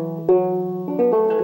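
Krar, an Ethiopian lyre, plays a quick run of eight ornamented plucked notes, clear sustained tones stepping in pitch, close and alone without speech.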